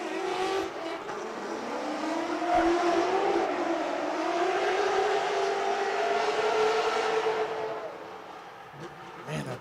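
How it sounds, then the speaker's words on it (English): Drift race car engine at Lake Erie Speedway during a drift competition, a loud sustained revving roar with rising and falling pitch as the car slides through, fading near the end with faint commentary-like sound. "Man, that thing sounds good, doesn't it?"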